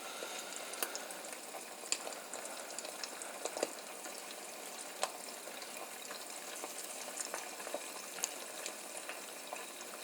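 Eggs sizzle in a green nonstick pan on a stovetop, a steady soft crackle with tiny scattered pops, quiet and close, with no voices.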